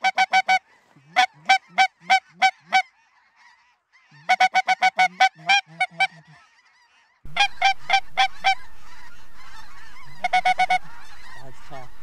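Mature snow geese honk in repeated bursts of harsh, nasal calls during a waterfowl hunt in western Manitoba, loud and close, with a steady wind-like rush filling the later part.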